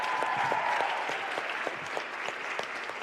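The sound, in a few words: audience applause at a conference plenary session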